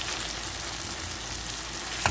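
Beef mechado ingredients frying on a noisy stove, a steady loud hiss and sizzle that continues without a break, with a brief louder crackle at the end.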